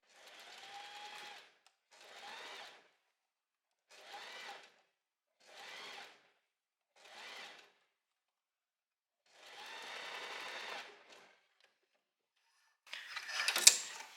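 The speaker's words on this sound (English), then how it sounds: "we're going to sew relatively close to the seam here" A sewing machine stitches close to the seam of an open-back slip-on dress in several short bursts, each lasting about a second, then one longer run and a final louder burst, with quiet pauses between and no talk.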